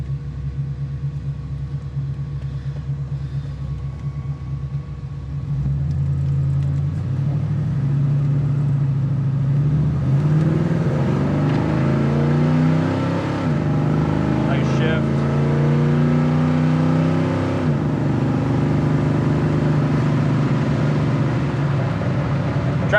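A 1974 Chevy Camaro idles with a low rumble, then pulls away and accelerates, its engine note rising and shifting through gears as it drives on, loud and close, with people talking over it.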